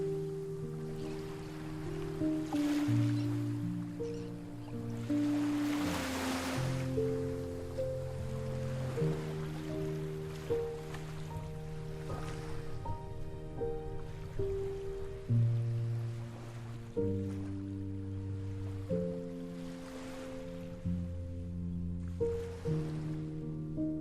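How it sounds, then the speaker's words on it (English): Ocean waves washing onto a shore, heard as a few slow, soft surging swells beneath a steady, sustained bed of ambient music that dominates throughout. "watching the rhythmic waves"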